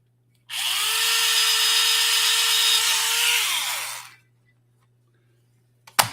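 A power drill bores holes into a Fanhome Iron Man model, whirring steadily and close for about three and a half seconds before spinning down, followed by silence and a sharp click.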